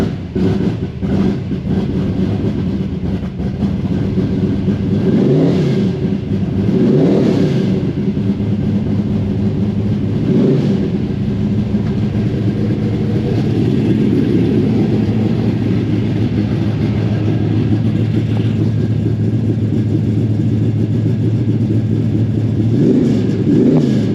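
A 1972 Chevrolet Chevelle with electric fans and an electric fuel pump idles with a loud, steady, low rumble, blipping into several sharp revs near the start and again later, close and continuous with no talk.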